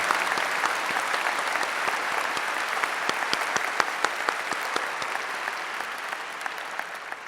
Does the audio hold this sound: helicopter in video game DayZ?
no